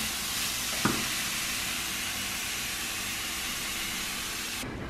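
Cauliflower rice braising in a pan for a vegan low-carb dish gives a steady, even sizzle and hiss throughout, with one brief clink partway through and no voices.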